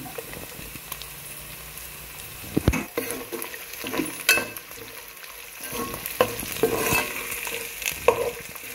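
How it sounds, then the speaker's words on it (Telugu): Onions fry in oil for a yam curry, a close, steady sizzle broken by repeated clattering stirs and scrapes of a spoon against the pan. "ఉల్లిపాయలు బాగా నూనెలో మగ్గాలి."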